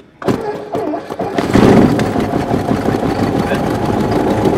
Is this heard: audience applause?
no